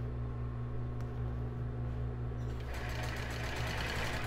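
A sewing machine stitches the elastic of a plus-size bra, first a short backstitch and then a straight seam, with a steady close mechanical whir that grows busier partway through.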